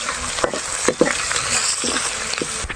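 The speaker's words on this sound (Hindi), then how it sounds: "अब डालेंगे 1 चम्मच अदरक लहसुन का पेस्ट और 2 से 3 मिनट के लिए बिल्कुल हल्की फ्लेम पे फ्राई करेंगे।" Ginger garlic paste sizzles in a pan on a low flame, a close frying hiss broken by repeated spatula stirs and scrapes.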